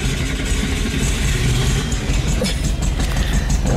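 A VW Beetle engine running with a rough, steady mid-pitched drone, loud and close, continuous for a few seconds with no speech on top.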